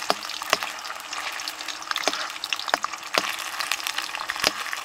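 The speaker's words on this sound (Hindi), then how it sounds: "मगज़ को डालने के बाद इसको हल्का हल्का इसमें फ्राई करेंगे इस तरह" Goat brain (maghaz) frying gently in hot cooking oil over a low flame, a soft, steady crackle and sizzle close up, with occasional sharp pops and stirring sounds.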